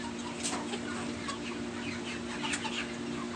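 Several young hens, no rooster, cluck softly nearby, scattered short calls over a low steady hum, with no talking.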